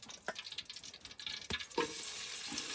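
Garlic, dried and green chillies and curry leaves frying in hot oil, crackling and spluttering with a few sharp pops, then settling into a steady loud sizzle.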